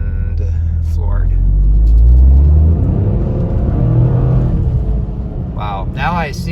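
A 2023 Toyota GR Corolla accelerates at full throttle in a snowstorm, its engine roaring loud and rising with a deep rumble, then briefly easing near the end while a voice speaks over it.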